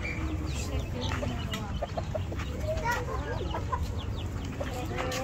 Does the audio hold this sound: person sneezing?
no